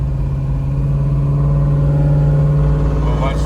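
A 1999 Pontiac WS6 with an LS1 V8 accelerates while rolling in gear, its engine a loud, steady drone that rises slightly in pitch, heard close from inside the car.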